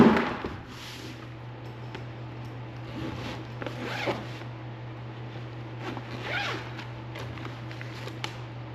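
A TECKNET EV charger's carrying bag being unzipped close by: several short rasping zip pulls spaced across the clip over a low steady hum, quiet overall.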